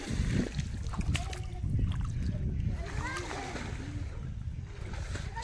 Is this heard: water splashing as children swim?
yes